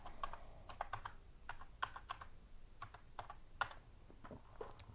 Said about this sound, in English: Now I will do my password, like whatever you want.